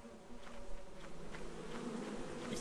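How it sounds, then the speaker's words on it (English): Bees buzzing steadily in the video game Lethal Company, a continuous insect drone that holds at a fairly even level throughout with no talk over it. "Oh, bees!"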